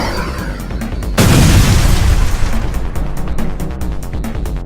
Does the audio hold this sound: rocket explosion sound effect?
yes